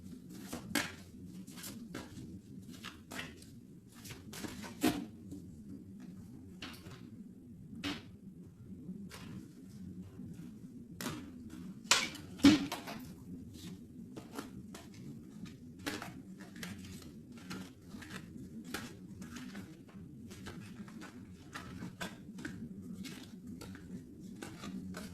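A deck of tarot cards being cut and shuffled: soft, quick card clicks and flicks scattered across a long, quiet stretch over a low steady hum, with no speech.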